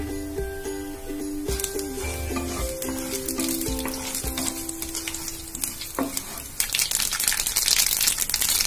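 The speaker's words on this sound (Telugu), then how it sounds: "ఆయిల్ కాగింది, ఇప్పుడు దీంట్లో మనం పోప్ బీన్స్ వేసుకుందాం." Seeds or beans tempering in 6 to 7 spoons of hot oil in a pan, a steady crackling sizzle with sputtering pops that grows louder and busier toward the end.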